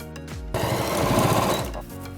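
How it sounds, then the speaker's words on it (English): A sewing machine stitches a strap onto a circle bag in one rapid, close burst of needle chatter lasting just over a second, with quieter handling noise before and after. "Loop it through and just sew it in place."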